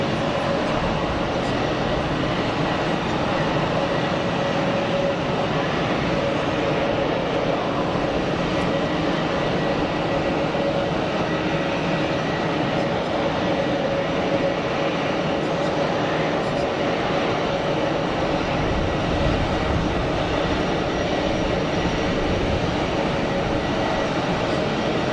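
MEA airliner, an Airbus A321neo, taxiing at Geneva Airport, a steady distant jet engine whine and broad rumble continuing throughout, with faint talk underneath.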